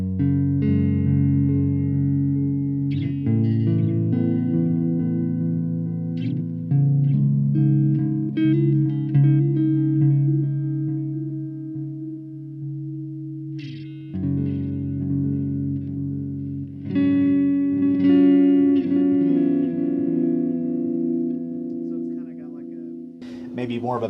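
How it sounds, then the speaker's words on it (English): A Donner Cyclops guitar amp plays chords and notes through its warm delay setting, giving bassy, repeating echoes that trail each strum; the playing is continuous and moderately loud, with a few pauses and fresh attacks along the way. "Here's the warm delay."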